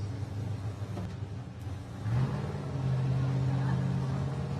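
Off-road race vehicle at the Baja 500 start line, its engine idling in a steady low rumble and then rising into a louder sustained rev, close by and continuous against crowd background.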